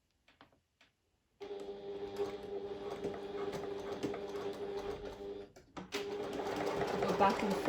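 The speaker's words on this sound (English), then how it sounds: "Go back and forth over it a few times, making sure I'm catching the cord in the stitching." A sewing machine tacks a cord into a fabric pouch, stitching back and forth in a steady mechanical whir that starts after a few light clicks, pauses briefly and then resumes louder, close by.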